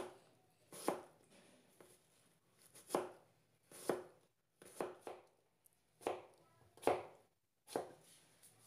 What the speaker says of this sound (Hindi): अब हम उसके बारीक पीस काट लेंगे